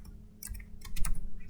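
Typing on a computer keyboard, a quick irregular run of close key clicks and taps in small bursts over a low background hum.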